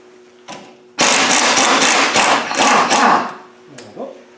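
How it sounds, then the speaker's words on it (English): A burst of rapid mechanical rattling, like a power tool working at a nut, lasting a couple of seconds between short quieter knocks, while removing a lock nut from a Land Rover 300Tdi front axle. "undo this nut, and then we'll bash it off"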